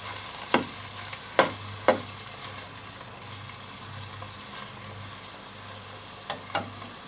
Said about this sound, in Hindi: हाई फ्लेम पे हम इसको करके इसकी हम अच्छी तरह भुनाई करेंगे कीमे की, पालक कीमे की।